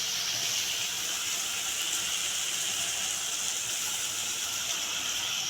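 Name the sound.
water added to frying spice masala for potatoes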